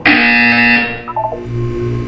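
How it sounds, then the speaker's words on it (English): In a Portal 2 test chamber, a harsh electronic buzzer sounds loud and close, then drops into a lower pulsing tone repeated a few times. "You will hear a buzzer"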